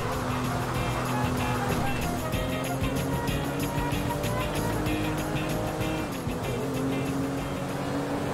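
A steady motorboat engine in Grand Theft Auto V drones loudly throughout, with a constant buzzing hum and splashing noise, its pitch dipping briefly near the end.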